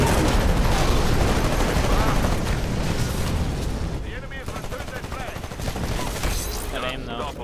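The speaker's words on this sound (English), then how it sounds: "I don't know where I'm shooting!" Dense, continuous automatic gunfire and explosions in a shooting video game, loud and close, with heavy bursts that thin slightly toward the end, and an excited voice can be heard beneath the barrage.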